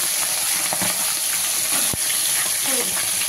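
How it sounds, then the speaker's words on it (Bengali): A katla fish head rubbed with salt and turmeric fries in hot oil, giving a loud, continuous close sizzle with a brief clink partway through. "তেল গরম হয়ে গেছে, দিয়ে দিচ্ছি মাছের মাথা।"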